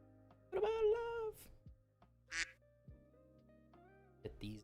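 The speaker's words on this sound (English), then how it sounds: "Get these ducks out of here." A duck quacks in a loud, drawn-out burst up close, followed by a few scattered shorter noises and quieter gaps.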